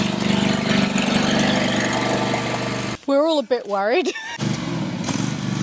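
A new lawn mower's engine drones loudly and steadily close by, dropping out for a few seconds while people talk, then returning at a steady idle-like hum.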